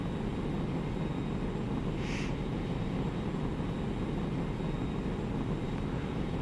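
F-86 jet in War Thunder, a steady, loud engine roar holding constant throughout with no breaks, one brief higher whoosh partway through.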